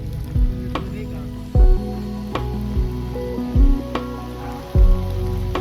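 Rain falls in a constant sizzling hiss, broken by several heavy, evenly spaced thuds nearby.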